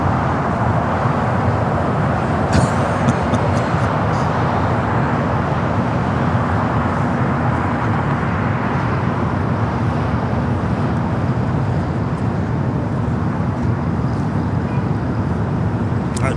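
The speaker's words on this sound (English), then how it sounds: "Japan Airlines, the flight heading back to Osaka, now rolling down to 25 right" A Japan Airlines airliner rolls down runway 25 right at LAX with a constant, loud jet rumble and rushing wind that stays even throughout, with traffic noise in the background.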